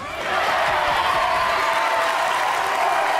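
A talk-show studio audience erupts in a sustained roar of cheering and clapping, loud and continuous, with shouts blending into a dense crowd wash.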